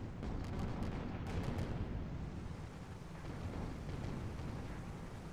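Heavy carronade cannons firing in an airship battle video game, a dense rumbling barrage of booms that rolls on steadily with a few sharper cracks early on, loud and continuous with no talk.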